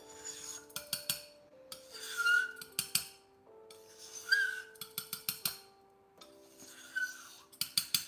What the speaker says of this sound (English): Okay, cleaning the neck out real quick here. Let's scrape. Let's scrape.